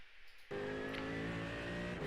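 A GT3 race car accelerates hard at The Bend in the iRacing sim, its engine bursting in loud and close with a rising, sustained roar after a quieter moment.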